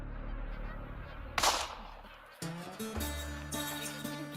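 Magpie geese honk in a dense, busy flock, a loud burst near 1.5 s that may be a gunshot during a hunt in wetland, then layered tonal goose calls close and continuous.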